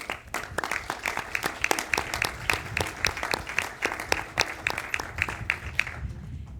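An audience applauds the French Tech mission team during a newly appointed French digital and AI minister's first public speech, with distinct individual claps in a loose, fairly steady rhythm at moderate loudness, thinning out toward the end.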